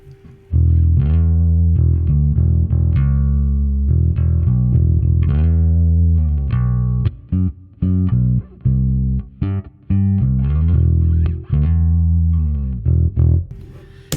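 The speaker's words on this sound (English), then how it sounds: "Here's the bass with the FM9 with the preset that I made" An electric bass plays a run of punchy, slightly overdriven notes through an FM9 amp simulation with an SVT-style preset, rhythmic and loud, with brief gaps between phrases.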